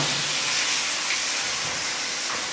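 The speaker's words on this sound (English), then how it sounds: "I want to pause this now while this bacon cooks off a bit" Bacon sizzling in a pan for a BLT panini: a steady, bright, broadband hiss and crackle, fairly close and even, with no talk over it.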